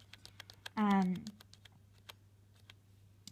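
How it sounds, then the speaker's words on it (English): Arrow keys tapped on a computer keyboard in quick, light clicks, steady through the clip, with one short voice sounding partway through. "you'd use the right and left arrow keys on your keyboard to highlight the month, day, or year"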